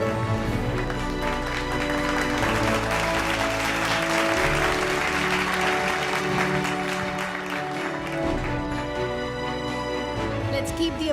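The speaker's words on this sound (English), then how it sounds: "Let's have a huge round of applause for the team," An audience at a health-tech awards grand finale applauds a team, a continuous wash of clapping from a large crowd alongside stage music, fairly loud and sustained throughout.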